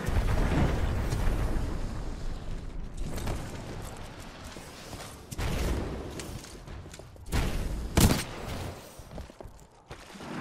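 Battle in Titanfall 2 with sustained gunfire and heavy booming blasts that swell and fade in waves, including a sharp burst near the end, no speech.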